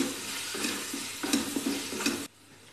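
Red chili and ground spices stir-fried in a pan for besan gatte sabzi, giving a steady close sizzle broken by repeated scraping stirs of a spoon against the pan, which stops abruptly near the end.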